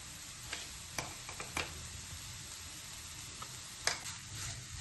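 Egg masala with grated boiled egg being stirred in a frying pan: a steady soft sizzle underneath, with a few faint, sparse spoon taps and scrapes.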